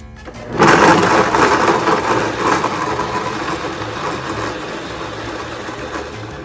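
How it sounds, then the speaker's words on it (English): A blender pulses cauliflower into rice: the motor kicks in sharply after a brief quiet start, whirring loudly and close, then gradually easing in intensity over several seconds with a steady mechanical churn. "Now, if you don't have a blender that pulses like this, you can always do it in a food processor as well."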